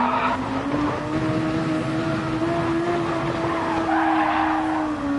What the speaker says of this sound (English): Feels more like a drift car than anything. Not even going fast and it just slides.